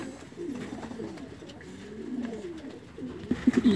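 A young, dark long-distance racing pigeon gives soft, low, rolling coos in a repeated burbling series, close by and fairly quiet, with no talking.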